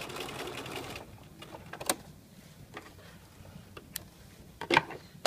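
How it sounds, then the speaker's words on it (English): Sewing machine edge stitching along the narrow lip of a lapped zipper, running in a short burst at first, then mostly quiet with scattered faint clicks and brief taps of handling, fairly low in level. "continue edge stitching on that little lip"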